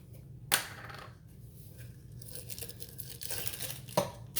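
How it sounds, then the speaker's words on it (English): Cheesecloth being cut in a home kitchen while making chicken and dumplings, giving a couple of sharp close snips or tears, with a louder one near the start and another near the end, and no talk. "I'm gonna cut my cheesecloth here and put my 2 bay leaves in there."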